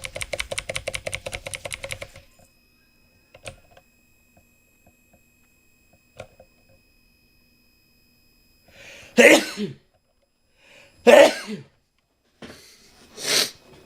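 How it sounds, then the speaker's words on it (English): Sneezes burst out close to the mic while someone plays a computer game, the loudest near the end, following earlier rapid computer keyboard typing and a few isolated clicks. "I hate sneezing."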